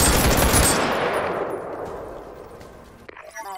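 A burst of automatic gunfire in the VR shooter Firewall Zero Hour rings out loud at first, then decays into a long fading echo, followed by faint voices at the end.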